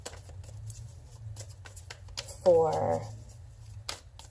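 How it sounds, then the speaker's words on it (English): Tarot cards shuffled loosely and sloppily, a soft brief riffling burst midway through, faint and close, under a constant low hum with a person speaking nearby. "A little bit of sloppy shuffling going on here sometimes"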